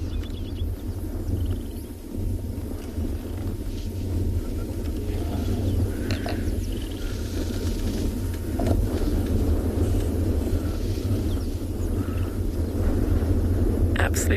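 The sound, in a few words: distant thunder rumbling over the savanna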